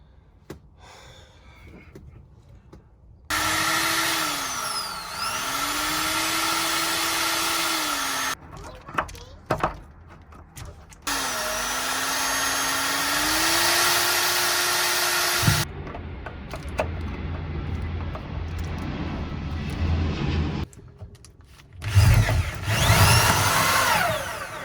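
During a DIY camper van build, a power drill whines in long sustained runs, its pitch dipping and recovering under load, close and loud, separated by pauses and clattering handling noises, with a few short sounds of breath.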